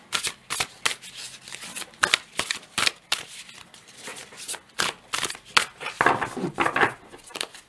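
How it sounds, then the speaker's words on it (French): Oracle cards are shuffled and drawn by hand, giving a string of quick, crisp riffles and slaps in uneven bursts. The sound is close and fairly quiet, with no talking over it. "on va commencer par tirer une carte"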